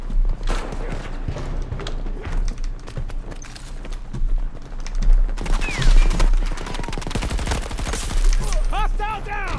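An M5 rifle in Battlefield 2042 fires rapid bursts, loud and close, mixed with running footsteps and in-game action noise.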